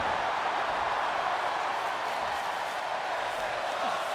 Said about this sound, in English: The crowd liking what they see here tonight.